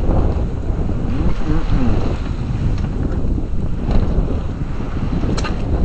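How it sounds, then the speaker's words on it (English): Steady wind buffeting the microphone while sailing solo on a sailboat, with water wash underneath, loud and continuous; a brief hummed voice is heard. "The wind has picked up."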